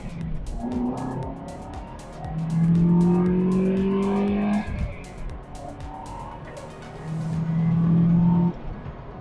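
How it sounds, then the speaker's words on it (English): A car modified with a larger throttle body accelerating hard through a test pull, the engine note rising in two long revving sweeps with a brief lift between them, loud and close. "I'll be able to do a quick pull with the car and see if it really makes a difference"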